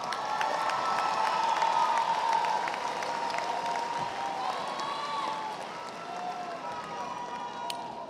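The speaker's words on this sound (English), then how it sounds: "Give yourselves a round of applause." Graduates at a fall university commencement ceremony give a sustained round of applause, a dense wash of clapping and some cheers from a large crowd carrying steadily throughout.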